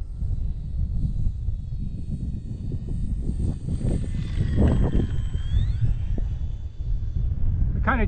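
A radio-controlled model airplane comes in to land in strong wind. Heavy wind rumble buffets throughout while a thin engine whine rises and falls in the middle, with no talking.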